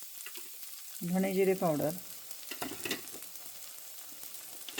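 Spice masala with coriander-cumin powder frying in a pan for paneer bhurji gives a soft, continuous sizzle and faint stirring under a voice speaking close by.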